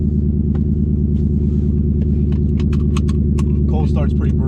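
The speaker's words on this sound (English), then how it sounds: "Cold start's pretty brutal." Twin turbo Mustang idling loud and close after a cold start, a heavy steady low rumble with a rough throbbing pulse throughout, while people talk faintly over it.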